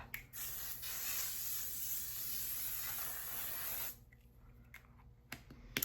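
A drugstore makeup setting spray mists out in one continuous close hiss lasting nearly four seconds, then cuts off, leaving a few faint handling clicks.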